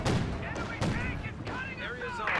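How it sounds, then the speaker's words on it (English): Bazooka rounds striking targets in Company of Heroes 2, a rapid run of blasts and impacts in a dense battle soundscape with overlapping gunfire and explosions. "couple of bazookas connecting"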